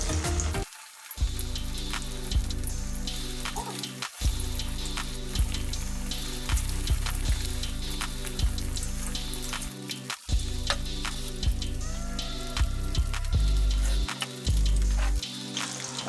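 Gram-flour-battered fish pakora pieces frying in hot oil, a continuous dense sizzle and crackle close up, with a few brief dips and small spatters along the way.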